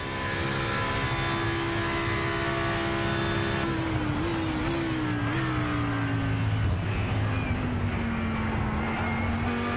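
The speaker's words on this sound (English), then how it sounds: "really listen as this V10, this Writer Engineering Team V10 screams its way down the Honadier" A Writer Engineering Team V10 race car at Le Mans screams down the straight, its high engine note holding steady, then dipping and climbing again through quick gear changes, loud and close as if heard on board.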